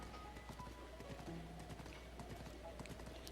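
Horse hooves clip-clopping in a steady rhythm in Zelda: Breath of the Wild near Lake Hylia, faint and fairly distant, with light background ambience and a few soft tonal game sounds.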